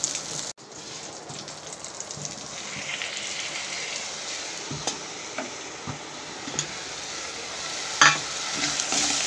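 Tomato frying in a pan with mustard, salt and turmeric for a raw fish curry, a steady hissing sizzle after a brief cut at the start, with scattered stirring clicks and a sharper crackle near the end.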